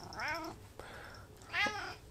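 A pet cat meows twice, close but fairly soft, with a brief click between the two drawn-out calls.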